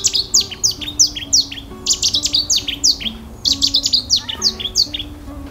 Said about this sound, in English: There's a Sette's warbler very, very close to the path.